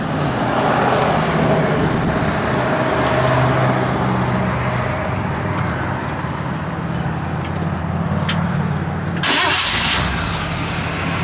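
A 1956 Chevrolet 210 with a 265 V8 runs steadily and loudly up close, its engine note holding throughout, with a sharp burst of noise near the end as it revs or catches.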